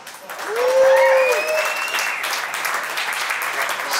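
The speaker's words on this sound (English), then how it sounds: "Give it up for Cole Watts." A crowd at a FlowRider contest awards ceremony in Provo, Utah claps and cheers steadily, the applause swelling early and staying loud, with a brief whistle and a voice rising above it.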